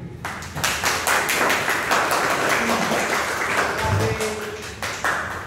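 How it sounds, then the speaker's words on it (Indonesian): Students in a classroom applauding a presenting group, loud uneven clapping from a modest crowd with sharp individual claps standing out, sustained for several seconds, plus a few faint tonal blips. "kita beri dulu tepuk tangan untuk kelompok Luen"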